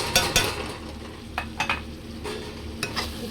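Chicken curry with chilli powder, salt and cashews is stirred in a pan: a few sharp spoon scrapes and clinks over a soft, steady sizzle, close up and with no talking.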